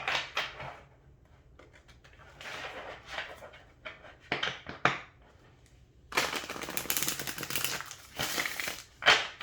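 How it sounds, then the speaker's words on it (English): Arcana of Astrology oracle cards being shuffled by hand: crisp riffles and papery crinkling bursts come in irregular clusters, quiet gaps between, building into denser, louder shuffling near the end, close up with no talk. "let's see how they shuffle."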